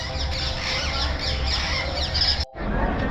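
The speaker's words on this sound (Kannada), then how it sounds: "ನೋಡಿ ಪಿಕಾಕ್ ಅದು" Near the Qutub Minar in Delhi, a peacock calls in short, shrill, repeated squawks over a dense crowd and traffic roar, moderately distant, with a brief cut in the middle.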